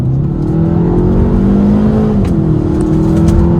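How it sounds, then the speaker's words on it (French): A 204 hp Kia Proceed GT accelerates hard with paddle-shift downshifts, a loud, close engine roar whose pitch climbs steadily, then drops at a gear change and climbs again. "On va faire 2-3 petites accélérations pour que vous puissiez voir la réactivité de la boîte de vitesse."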